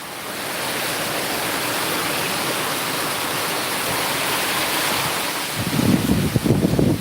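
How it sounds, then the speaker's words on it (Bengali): Storm wind in the countryside roars steadily against the microphone in a broad, rushing wash, then buffets harder in gusty bursts near the end; no voices. "বেশ তুফানের দৃশ্য দেখেন আপনারা"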